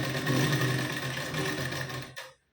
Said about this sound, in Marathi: आता आपण शिलाई देऊन घेऊ.